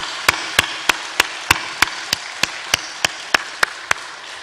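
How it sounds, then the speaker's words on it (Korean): A church congregation at a Sunday worship service claps in steady unison, about a dozen sharp, evenly spaced claps at a brisk pace with no voices. "우리 감사와 영광의"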